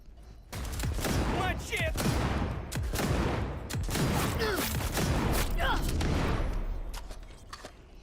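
Heavy weapon fire in the Cyberpunk video game, a series of loud, sharp blasts and thuds repeating through the clip over a dense combat bed, with a voice speaking briefly.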